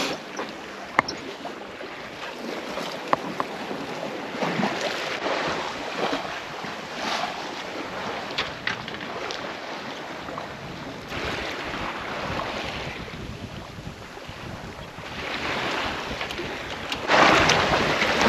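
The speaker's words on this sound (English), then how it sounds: "Well, we're sailing again." A sailboat under way on the open ocean, on a solo passage from Panama to the Marquesas, gives a steady rush of wind and waves washing along the hull, with gusts buffeting the microphone.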